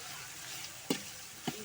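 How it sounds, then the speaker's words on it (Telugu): Pulao masala being stirred as it fries in a pan, a steady hissing sizzle with two brief scraping strokes of a spoon, close and fairly quiet. "మొత్తం మసాలా అంతా ఫ్రై అయ్యే వరకు కలుపుకోవాలండి."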